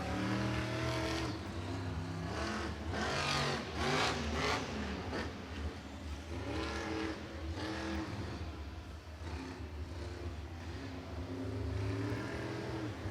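A loud monster truck engine revs and roars continuously, rising and falling in pitch with throttle bursts, heard over a steady crowd background at a Monster Jam stadium show.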